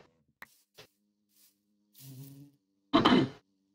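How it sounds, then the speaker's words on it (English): A bee buzzing in the Minecraft video game, heard as a few short, faint blips and then one louder, brief burst near the end over a low steady hum. "All right, this dirty bee."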